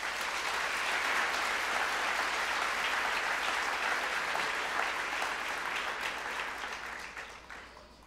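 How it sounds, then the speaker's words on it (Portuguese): A church congregation claps in praise during a sermon, a dense, even wash of applause that holds steady for several seconds and then fades out toward the end. "Pode dar uma salva de palmas a Jesus mesmo."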